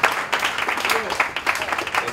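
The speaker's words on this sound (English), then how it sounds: "round of applause for Tony" Applause from an event audience for a speaker named Tony, a dense steady wash of clapping with voices mixed in throughout.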